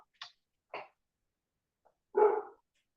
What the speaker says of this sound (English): I apologize if you can hear all the barking in the background.